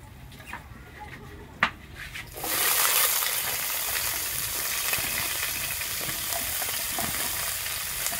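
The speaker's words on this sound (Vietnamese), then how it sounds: "Hôm nay mình sẽ xào cùng với đậu que." Green beans hit a hot pan for a vegetarian stir-fry with tofu and broccoli, bursting into a loud, steady sizzle after a quiet start with a sharp clank, then frying continuously up close.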